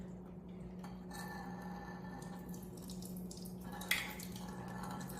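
Liquid drains from a pan of fried apples with cinnamon, a faint steady trickle of water with soft drips and one brief clink of glass or metal, close by and without talk.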